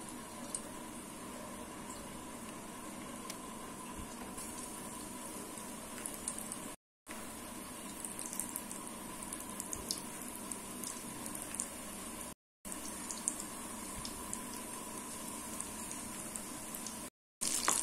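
Potato bondas deep fry in hot oil, a steady, close bubbling sizzle that runs continuously, broken by a few brief gaps of silence.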